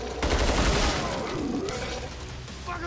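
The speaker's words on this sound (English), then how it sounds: "That's the power of the house cannon." A house cannon firing in Killing Floor 2, a heavy blast followed by a rapid fusillade of gunfire that gradually tapers off, loud and close with a brief voice underneath.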